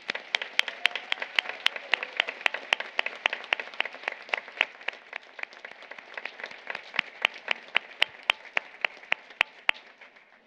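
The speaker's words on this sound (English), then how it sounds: "Graduates, please stand and let us applaud you." At a nursing bachelor's graduation ceremony, the audience applauds the graduates. Sharp, distinct claps ring out in a steady rhythm over a soft, continuous wash of applause that lasts around ten seconds, fairly quiet overall and without speech.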